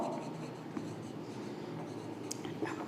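Pen or marker writing out a geometry construction step in a classroom lesson on triangles, a steady faint scratching with soft strokes running continuously and quietly throughout, no voice heard.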